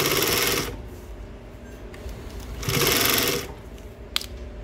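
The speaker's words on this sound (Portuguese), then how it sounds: "E vamos costurando." An electric sewing machine stitching swimsuit fabric runs in two loud, steady whirring bursts, with quieter handling noise and a faint click between them.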